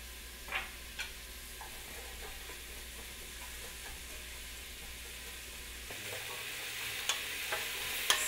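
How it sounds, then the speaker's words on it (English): Celery sizzles softly while sautéing in a pan with faint hissing and occasional clicks of stirring utensils, quiet and steady throughout. "Sizzling, the celery's getting nice and soft."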